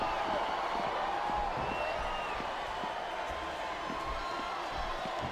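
Arena crowd in a WWE wrestling video game's Season Mode, a constant roar of cheering and noise that fills the whole stretch, with faint voices mixed in.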